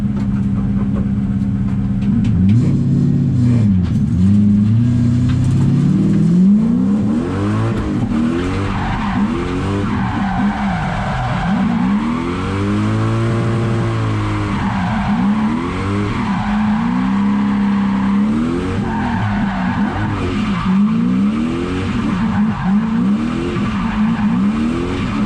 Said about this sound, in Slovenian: E36 z Toyotinim 3UZ motorjem,